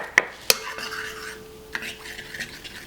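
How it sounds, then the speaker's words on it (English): Spoon stirring a yogurt mixture in a bowl for sourdough Turkish pide dough, with a couple of sharp utensil clinks against the bowl early on followed by soft scraping, close and fairly quiet. "we just want to stir this to break it all up and have it evenly combined"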